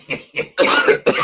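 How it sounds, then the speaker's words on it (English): A man's cough after smoking, a rough burst of several harsh coughs in quick succession, close and loud, with no talking. "passing that cough through the phone"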